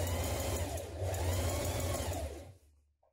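A sewing machine runs steadily, stitching a dress seam with a 1.5 centimetre seam allowance, a continuous motor whir with needle clatter that stops near the end.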